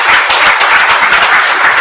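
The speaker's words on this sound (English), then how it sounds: "let's give a round of applause to Mike Fornes of the Gordon Lightfoot" At a memorial service for the Edmund Fitzgerald, the audience applauds a tribute performer, loud, dense, continuous clapping heard close for under two seconds.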